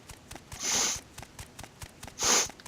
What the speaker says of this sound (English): Got the sniffles, excuse me.